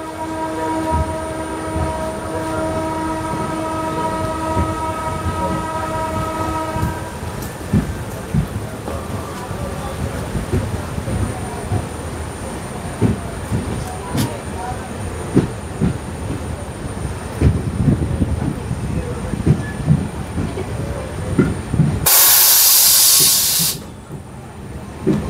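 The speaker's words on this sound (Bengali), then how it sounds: "ট্রেন ছেড়ে দিল জলপাইগুড়ি রোড স্টেশন।" A passenger train pulls out of Jalpaiguri Road station: a long, loud horn blast opens, then a steady rolling rumble with clanks builds, and a sharp burst of hissing steam or air flares near the end.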